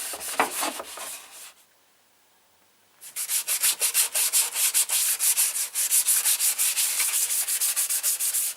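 Motorcycle plastics on a Yamaha TDM850 sanded and keyed by hand before paint, a short burst of scrubbing, a pause, then a fast rhythmic back-and-forth rasp close up.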